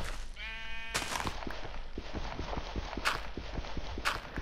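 Sheep bleat in the video game Minecraft, a wavering bleat at the start followed by steady clopping footsteps and a few sharp bursts, moderately close with no talking.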